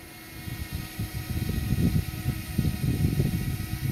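A DJI Mavic Mini drone circles overhead outdoors, its propellers giving a steady high-pitched whine with a buzzy, pulsing rumble that swells slightly as it passes nearer.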